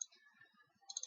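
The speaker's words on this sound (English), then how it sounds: "Double click on it" A computer mouse gives two quick, faint clicks, one at the start and another pair near the end of a short quiet moment.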